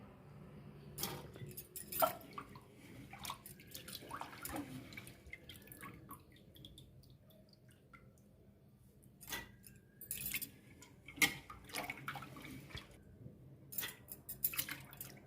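Water trickling and dripping into a grinder holding soaked urad dal and rice, with intermittent splashes and clinks at moderate-low level, a few louder pours spread irregularly through the stretch.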